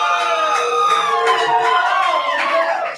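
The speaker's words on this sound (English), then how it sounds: "Everyone cheer real loud for that." A bar crowd at a live debate event cheers and yells loudly, a dense, sustained wall of many voices that holds steady for the whole stretch before dropping off at the very end.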